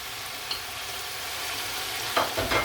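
Chicken sizzles steadily in hot oil while ginger and garlic paste is stirred in, a continuous close hiss broken near the end by a few louder scraping stirs.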